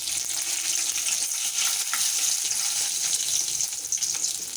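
Mustard seeds, cumin and dry red chillies sizzle steadily in hot oil for a tomato-garlic chutney, a dense continuous crackle and hiss with faint stirring.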